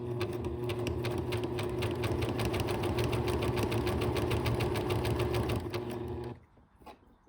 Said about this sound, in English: I'm going to gently press on the foot pedal, and then we'll do the zigzag stitch.